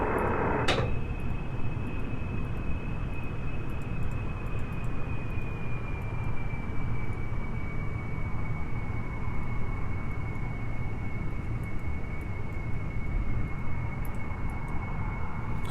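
An airplane flies in the Kerbal Space Program game, a steady unbroken engine drone with a faint sustained whine, with no talk and no change in level throughout.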